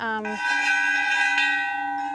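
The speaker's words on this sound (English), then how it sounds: "he did really enjoy the Tibetan bells." Tibetan bells in a welded metal sculpture built from cut oxygen tanks, ringing with a struck metallic tone that shifts into a long, clear sustained hum and slowly fades, close and alone.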